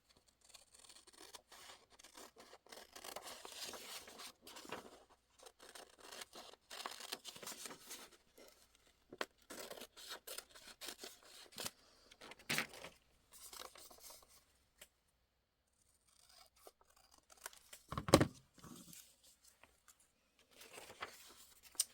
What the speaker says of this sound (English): And then there's this little plaid piece here that I'm cutting out.